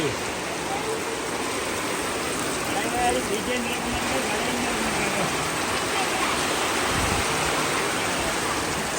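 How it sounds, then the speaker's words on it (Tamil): Heavy rain pours down steadily in a storm with strong wind, a dense unbroken hiss that stays loud throughout with a voice speaking beneath it. "பயங்கர காற்றும் மழையும் பாருங்க ஊரில்"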